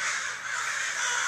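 A large flock of crows caws outdoors in a dense, continuous wash of overlapping calls, fairly loud and unbroken, with no talking.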